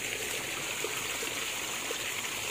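A small forest river runs over rocks in the mountains, giving a steady, close trickling and babbling with no voices.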